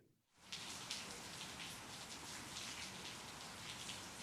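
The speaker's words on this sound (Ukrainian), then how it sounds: "під такою зливою, яку ми зараз бачимо у Харкові" Heavy rain pours down in a Kharkiv downpour, a dense, steady hiss of water that starts almost at once and stays loud and unbroken throughout, with no voices.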